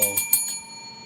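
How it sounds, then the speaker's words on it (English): A bell rung to mark the 4 o'clock close of a stock market trading day, with a few bright metallic strikes at the start that ring on and fade over about a second, with no talking. "Ring the bell."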